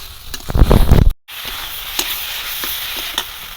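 Prawn curry with mustard paste and chili powder being stir-fried in a pan in a village kitchen: a loud burst of stirring and sizzling, a brief break, then steady hissing sizzle with occasional scrapes, close up.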